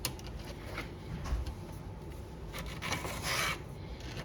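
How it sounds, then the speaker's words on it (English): A Stihl MS170 chainsaw chain clamped in a vise being sharpened with a Stihl 2-in-1 file sharpener; quiet, close rasping strokes repeat irregularly, each a short scraping rub of file on steel. "Grab my 2-in-1 here. Fancy sharpener from Stihl."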